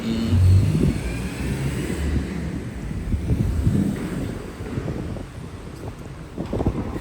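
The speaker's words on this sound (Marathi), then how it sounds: "हवा पण सुटले" Wind at Wakra beach in Doha, Qatar, buffets the microphone with loud, uneven low rumbling gusts that swell and ease throughout, with no voices.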